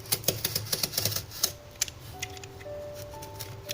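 Sharp snips and scoring cuts through thin cardboard for a miniature gingerbread house luminary, a quick run of close crisp clicks and rasps that thins out into sparse taps, with a faint steady tone in the background.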